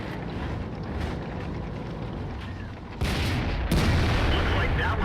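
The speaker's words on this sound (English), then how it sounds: "There's artillery shot coming in." Artillery fire in the World of Tanks game, heard from a T28 Prototype tank as a steady low rumble that jumps abruptly louder twice in quick succession, like shells landing close by.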